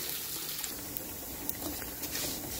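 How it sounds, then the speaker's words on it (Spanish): T-bone steaks sizzle on a comal, a steady faint hiss with small crackling pops throughout, close and unbroken. "Ahí se están cocinando los T-bone steaks"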